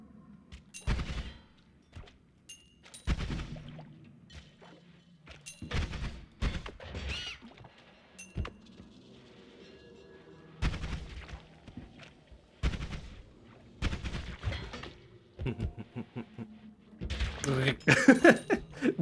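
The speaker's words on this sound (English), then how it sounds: "Oh, wow, that's an explosion." Explosions in the game Noita come as a series of sharp, punchy blasts and crashes scattered across the clip, with quiet gaps between them and a louder cluster near the end.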